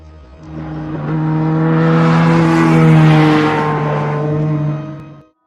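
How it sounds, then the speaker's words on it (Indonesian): An angkot minibus engine drives slowly in an audio drama, a steady droning hum that swells in, holds, then cuts off abruptly, close and loud with no voices. "Angkot yang ditumpangi Jeng Desi berjalan perlahan meninggalkan daerah Karadenan menuju Pasar Cibinong"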